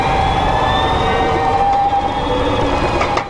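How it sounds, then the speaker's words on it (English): A steady, high-pitched electric whine from the motor and differential of a Harley-Davidson LiveWire electric motorcycle, with sustained tonal pitches over a constant mechanical hum, loud and continuous. "There is all the noise coming from the differential and from the electric motor itself."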